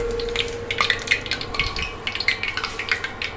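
Chocolate donut dough frying in hot oil, a steady close sizzle with scattered crackling pops and faint clinks throughout, no talk.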